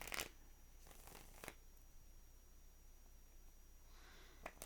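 Tarot cards are shuffled in a few quick riffling bursts near the start and again at the end, close and soft, with quiet room hiss between and no talk.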